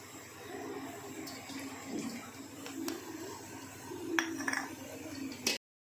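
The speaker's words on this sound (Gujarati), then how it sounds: "હવે થોડું થોડું પાણી રેડીને આપણે મિક્સ કરીશું" Water trickles and splashes in small pours into flour for bhature dough against a steady low hum, with a few light clinks of a utensil or bowl, close by.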